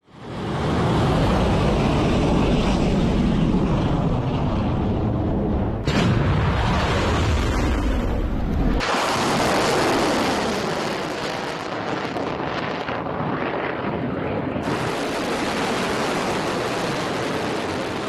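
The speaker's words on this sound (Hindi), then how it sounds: "यह मिसाइल वो मिसाइल है जो ईरान के नतांज से लॉन्च हुई" A continuous loud roaring rush of an Iranian Sejjil missile launching, broadband and steady for the whole stretch, with abrupt changes in tone where the shots cut between angles and no voices.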